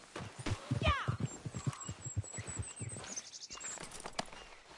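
Horse hooves clip-clop at a walking pace in Red Dead Redemption 2, a steady mid-distance rhythm mixed with game ambience, a whinny-like sweep and birdsong.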